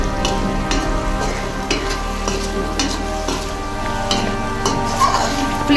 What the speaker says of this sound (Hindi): टमाटर ऐड करेंगे, अच्छे से मिक्स करेंगे।